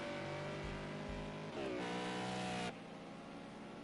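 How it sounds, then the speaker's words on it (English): A BMW GT4 race car with a flat-six engine roars during evening qualifying at a race circuit, a loud sustained engine drone that rises in pitch as it accelerates, then cuts off sharply. "flat six roaring away there."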